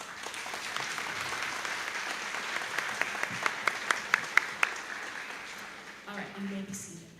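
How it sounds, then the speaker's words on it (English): A school band and choir spring concert audience applauds warmly, a dense wash of clapping with a few sharp nearby claps standing out, and a voice speaking over the end as it fades. "One more round of applause."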